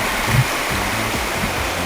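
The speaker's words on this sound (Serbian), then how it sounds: "Reka sve vreme šušti i šumi, kao da nam stalno nešto glasno govori." A fast, turbulent river rushes loudly and close, a steady broadband roar of churning whitewater that fills the whole moment without pause.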